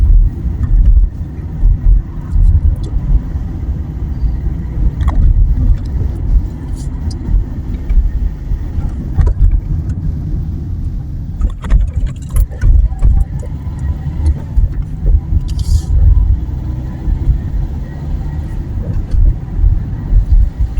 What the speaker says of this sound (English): The Monday morning driving in the UK.